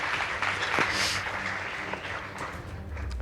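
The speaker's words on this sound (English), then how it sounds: "Please give them a round of applause" An audience at a school debate contest claps and applauds, a steady dense patter of many hands throughout, fairly close and unbroken.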